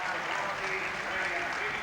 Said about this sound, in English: But the applause is for Robson